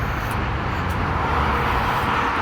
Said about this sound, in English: That's a busy road.